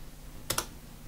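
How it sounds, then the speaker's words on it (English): Two quick keystrokes on a computer keyboard, close and fairly faint, over a low hum. "you type the name of the plugin"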